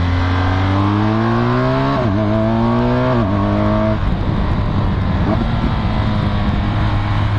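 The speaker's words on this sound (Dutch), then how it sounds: "Terugschakelen, die knal uitlaten," A 2016 BMW R1200GS Adventure motorcycle downshifting, its engine pitch stepping and dropping through gears, followed by loud crackling exhaust pops as revs fall, close and alone.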